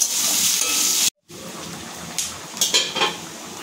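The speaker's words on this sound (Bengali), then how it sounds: "এবার আমি দিয়ে দেবো কেটে রাখা পেঁয়াজ। এটা একটু নরম হওয়া অবধি ভাজবো" Chopped onion frying in a pan with spices like dried chilli and kasuri methi, a steady bright sizzle and hiss throughout, broken by a brief silence, then a few light utensil scrapes and clinks near the end.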